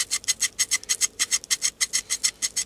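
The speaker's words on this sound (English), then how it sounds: "take your knife, and with a little bit of pressure, just scrape back and forth with your knife" A knife blade scraped back and forth under pressure across birch bark to raise fine tinder fuzz, making a steady rhythmic rasping of about fifteen quick close strokes with no voices.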